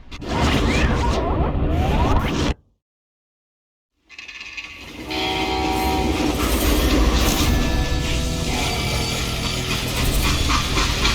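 A freight train in the video game Call of Juarez: Gunslinger rumbles and clatters loudly along the rails with a horn sounding. The noise cuts out briefly to silence, then the heavy rolling clatter resumes.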